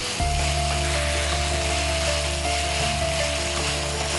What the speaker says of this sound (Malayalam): ഒരല്പസമയം ഇങ്ങനെ വഴറ്റിക്കൊണ്ടേയിരിക്കാം.